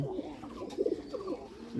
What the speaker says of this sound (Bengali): বোম্বে কবুতর কী সুন্দরভাবে ডাক দেয়